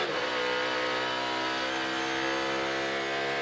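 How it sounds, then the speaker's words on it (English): A NASCAR Cup Series car on the road course at Circuit of the Americas, its engine note holding loud and steady with a faint hitch around a gear shift, harmonic drone close and continuous for a few seconds. "Hear that little hesitation from Cindric on the shift"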